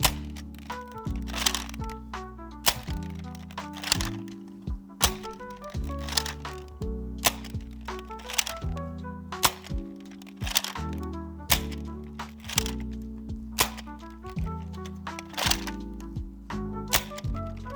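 A Buzzbee Thundershot hammer-action toy blaster fires repeatedly at angled targets, each shot a crisp, close crack recurring at a steady rhythm over a bed of background music.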